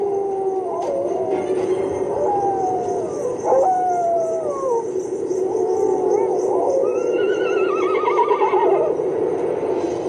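A horse neighs and whinnies several times in a row, with long rising and falling calls over a steady, dark ambient drone.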